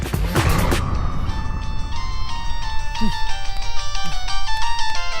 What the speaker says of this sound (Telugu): రే ఫోన్